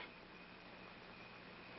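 A faint, steady rumble with a soft rail-like hiss drones on without change, like a train passing far off.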